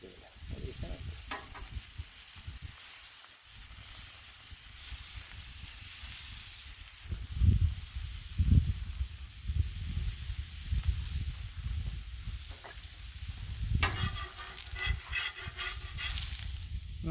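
Eggs frying on a griddle for breakfast, a steady loud sizzle and hiss throughout, with scraping and clatter as they are turned over, bursts of crackle rising near the middle and end.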